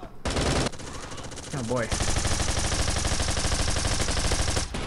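Rapid automatic gunfire in the video game Bullet Force rattles loudly and continuously through most of the clip, close and dense, while a player briefly speaks over it.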